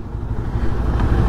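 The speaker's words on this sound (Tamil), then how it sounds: "ஐடிலிங் வந்து 1500 RPM நிற்குது. இதுதான் எக்ஸாஸ்ட் நோட்." A Royal Enfield Guerrilla 450 motorcycle idles at about 1500 RPM, giving a steady, close, low exhaust rumble that lasts only a moment, with no speech.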